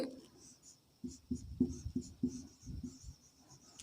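Chalk or marker taps and scrapes across a classroom board during an organic chemistry lesson on amine nomenclature, a quick series of short close strokes, fairly quiet, with faint background hum.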